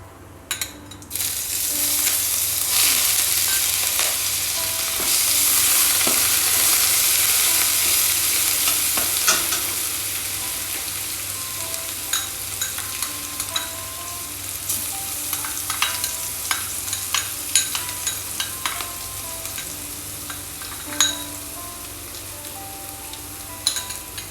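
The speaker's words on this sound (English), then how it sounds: "Now you hear the sound of the cumin seeds." Cumin seeds crackle and sizzle in hot oil in a pan, with green chilies, ginger and garlic added for palak paneer; a steady loud frying hiss with scattered pops and spoon-stirring taps, no talk.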